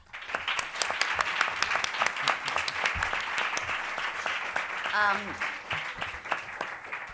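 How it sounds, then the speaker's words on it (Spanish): A university audience at a lecture gives warm, sustained applause welcoming a speaker, a thick patter of many hands clapping steadily throughout, with faint voices mixed in. "pido que la recibamos con un fuerte, fuerte aplauso"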